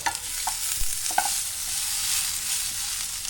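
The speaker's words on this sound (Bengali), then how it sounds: "এই ভাজা পটলের চামড়া মধ্যে আমি পাতাগুলো ভেজে নিব" Coriander leaves fry with fried pointed gourd skins in a pan, giving a soft, steady sizzle broken by a few scraping stirs of a spatula near the start, with no one talking.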